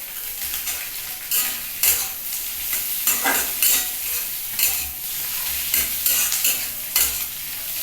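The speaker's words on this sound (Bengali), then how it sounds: "এবার আমি টমেটোটাও দিয়ে দিচ্ছি" Tomatoes tossed into a pan with broken chillies hiss in a steady, loud sizzle while a utensil scrapes and stirs in rhythmic bursts, with no voices over it.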